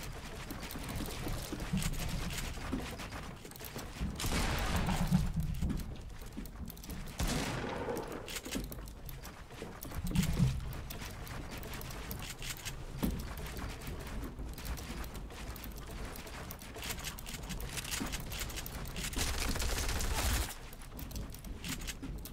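Bursts of gunfire in the Fortnite video game, repeated volleys and rapid fusillades over a continuous game soundscape, loud and close, with no talking.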